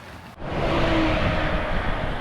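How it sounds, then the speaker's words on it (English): Road traffic roars by close on a highway near Silverthorne, Colorado, a car passing with a loud rising and falling engine rush that stays strong throughout. "And obviously a lot of traffic."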